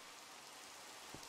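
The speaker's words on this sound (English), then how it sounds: "alright, and it's raining!" Rain falls in Minecraft as a faint, even hiss that continues briefly and steadily with no voices.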